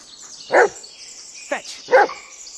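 Bullet the dog barking in the Blair Witch video game, three separate sharp barks spaced unevenly over a soft background hum, moderately close.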